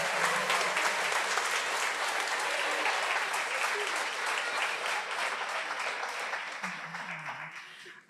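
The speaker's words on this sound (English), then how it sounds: "Another round of applause, please." A crowd applauds loudly and continuously after a student arts performance, a dense wash of clapping that tapers off near the end as a voice begins speaking.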